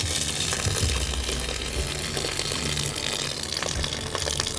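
Water pours steadily into a cooking pot of goat belly for curry, a continuous loud gushing splash with no pauses throughout.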